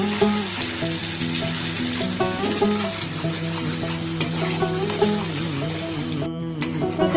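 Spice paste with salt and turmeric sizzles and fries in a pan for mutton curry, a close, steady crackle with occasional stirring and scraping sounds.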